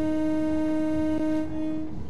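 A low-toned train horn sounds in Train Sim World, one long steady blast that holds for about a second and a half before cutting off, loud and close against a low rumble.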